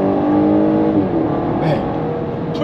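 A Volvo S60 B5 R-Design engine revs up loudly and steadily in Dynamic mode, with a deep throaty roar building under the acceleration.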